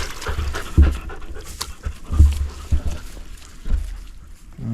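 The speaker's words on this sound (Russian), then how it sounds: "Ах, собаки, собаки." Dogs pant close by in the Baikal taiga during a grouse hunting trip, rapid rhythmic breaths repeating loudly throughout.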